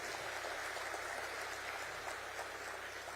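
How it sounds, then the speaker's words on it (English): A dense, steady wash of audience applause fills the hall at a corporate brand-identity launch for Hindalco, continuous and fairly distant with no single claps standing out. "A big round of applause for our customers"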